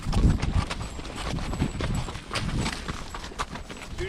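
Horse hooves clip-clop steadily during a ride along a trail to an old ghost town site, close and rhythmic over faint outdoor ambience, with no talking.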